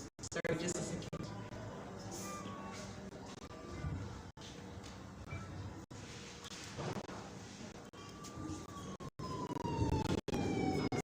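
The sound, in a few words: siren sound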